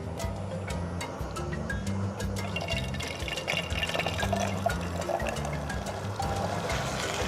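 Cooking oil poured into a pan at a campsite before frying onions, a steady trickling, dripping stream with small splashes, heard up close over a low continuous hum.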